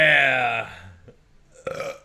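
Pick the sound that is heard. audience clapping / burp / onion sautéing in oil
burp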